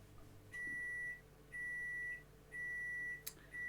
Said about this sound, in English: Microwave is ringing.